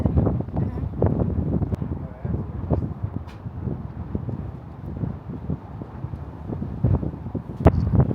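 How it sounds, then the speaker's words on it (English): Gusty wind in Ketchikan, Alaska rumbles against the microphone in uneven bursts, with occasional faint voices underneath. "now it's getting windy"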